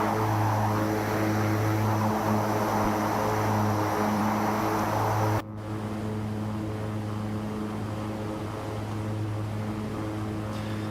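Propeller engines of a King Air 350 air ambulance in the X-Plane 12 flight simulator, a steady loud turboprop drone with strong tonal hum; the sound abruptly shifts to a slightly quieter, duller tone midway, as if the cabin perspective changes.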